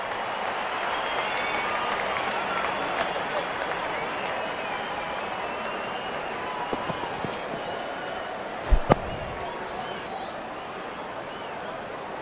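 Crowd applause and cheering fill the stands in an India vs Pakistan T20 cricket video game, a continuous wash of clapping and crowd noise with a short, sharper burst near the end.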